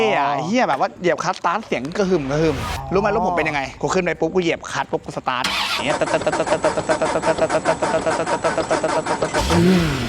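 Subaru WRX STI being started, with a starter crank catching into a steady idle. Loud talk runs over the first half before the engine note settles into a smooth, sustained hum.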